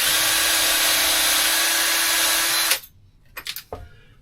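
A power drill boring holes during a boat head and galley rebuild, one loud steady whine running about two and a half seconds and cutting off abruptly, followed by a few short clatters.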